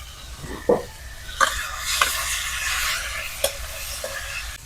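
River eel pieces stirred and sizzling in a pan with turmeric, salt, chili powder and green chilies in a village kitchen, a steady close hiss broken by several sharp scraping stirs, no talking.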